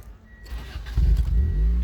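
A five-speed car with automatic seat belts cranks briefly, then its engine catches and settles into a low, steady idle, heard close and loud.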